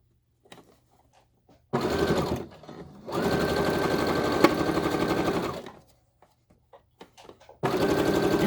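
A sewing machine back stitches a medical face mask in three loud, even motor-driven runs of rapid needle buzzing, separated by short quiet gaps with faint handling noises.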